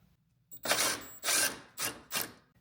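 A ratchet wrench backs out a 10mm headlight bolt on a third-generation 4Runner, four close, loud bursts of rapid clicking in quick succession with short pauses between strokes, and no talking.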